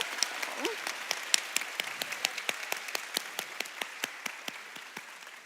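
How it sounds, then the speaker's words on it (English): A graduation ceremony audience claps for the teachers, sharp individual claps standing out in a loose, slightly irregular rhythm over a softer crowd bed, with a brief whoop near the start. "So how about a round of applause for all of our amazing teachers?"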